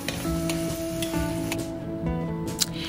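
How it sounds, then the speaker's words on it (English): Frozen peas and carrots sizzle in a hot oiled wok while being stir-fried for fried rice, a continuous close crackle with scraping stirs, music playing underneath. "add the peas and carrots, the frozen peas and carrots, and go ahead and stir fry until it is no longer frozen"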